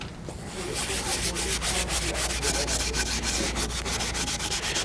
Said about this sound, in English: one of the techniques you can use to buff this up with, I use Scotch-Brite cloths